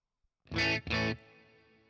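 Two bright electric guitar chords strummed through a clean amp model based on a Tremolo Lock, on a Fractal Audio AX8, the second left to ring out and slowly decay on its own.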